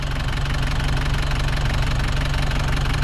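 The engine of a Nissan Big-M pickup truck runs at a steady idle, a continuous close knocking rumble with even mechanical pulses and slight vibration, with no voices over it.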